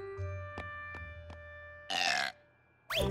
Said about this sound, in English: the babies need to be burped